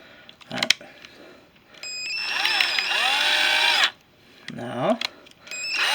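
A power drill whirs in bursts while a wooden chair leg is repaired, a short rev near the start, a longer sustained whine in the middle, and a final quick burst, with brief pauses and a voice between runs.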